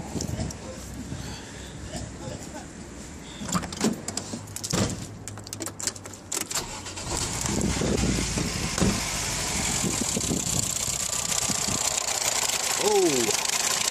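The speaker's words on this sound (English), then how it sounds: "let's start the car up" A car fitted with a homemade HHO hydrogen generator cranks with uneven clattering bursts, then fires and settles into a steady, loud running drone, with a brief squeak near the end.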